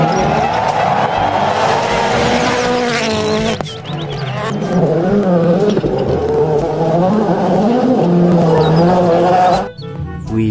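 A toy race car giving off a loud, buzzing electronic engine whine with warbling, revving tones, sustained for several seconds, briefly dipping, then resuming close by.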